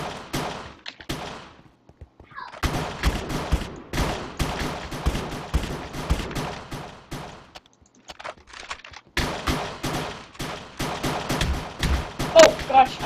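Rapid bursts of gunfire from a shooter game played on a Minecraft Hypixel server, including a Desert Eagle, repeat in dense volleys with short silent pauses between them, loud and close.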